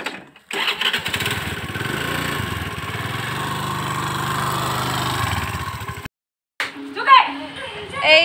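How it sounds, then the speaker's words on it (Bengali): A car engine starts and runs steadily at close range for about five seconds, then cuts to silence before brief voices follow. "গাড়িতে বসে গেছি, গাড়িতে স্টার্ট দেওয়ার জন্য রেডি।"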